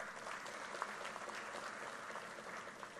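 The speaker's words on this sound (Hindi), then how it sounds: "ताली बजाओ जरा" Dense applause from a large crowd at a political rally in Bengal, a steady wash of clapping that fills the whole stretch without pause.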